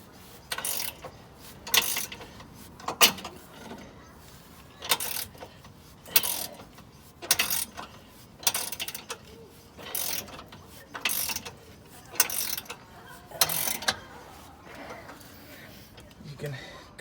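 A hand-cranked press pushes a bushing into a 2004 Nissan Murano, with a series of evenly spaced metallic ratcheting clicks and clunks repeating about every second, close by, as someone speaks between them.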